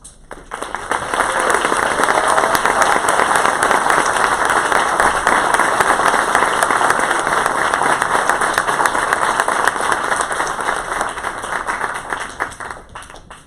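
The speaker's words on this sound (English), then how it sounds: "if you wouldn't mind please standing up to receive a round of applause" Sustained applause from a crowd, building quickly and holding steady for several seconds before tapering off at the end.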